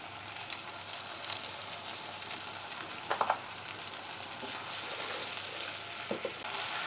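Tomato paste frying over a medium-high flame gives a steady soft sizzle, with a few brief scraping stir strokes partway through and near the end.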